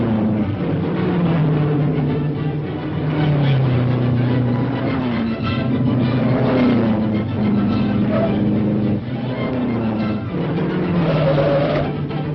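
Race cars of 1941 speeding in an auto race, a loud, continuous engine drone with pitch rising and falling as the cars pass, steady throughout with no talking.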